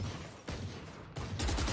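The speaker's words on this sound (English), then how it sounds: "Preemptive wall bang there." Muffled gunshots fired through a wall in the tactical shooter Valorant during a Masters Korea match, coming as a few quiet, spaced bursts with a louder rapid volley at the end.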